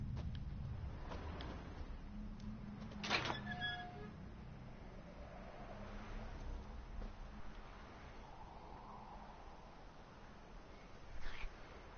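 A cat meows once in The Witcher 3: Hearts of Stone, a short, faint cry over steady, dull game ambience.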